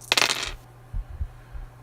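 Dice rattle and tumble onto a table during a golf-themed tabletop game, a bright clattering burst up front followed by a few soft, low knocks as they settle.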